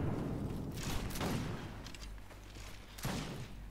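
Gunfire in the Mount & Blade video game, a few sharp cracks spread across the stretch at moderate volume, the loudest near the start and end, over a low rumbling background.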